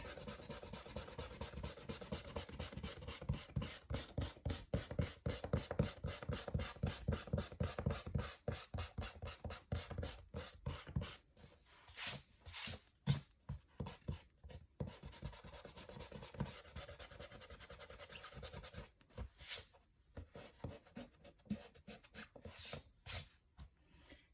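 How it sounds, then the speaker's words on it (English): Pencil lines of a traced Pikachu drawing being erased, a fast run of close, rhythmic rubbing strokes that thins out into scattered short scrubs. "now that we've traced, next we get to erase"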